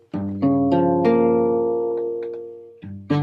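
A jazz guitar minor 7 flat 5 chord in root position is struck twice and rings out, gradually decaying, then is played again near the end.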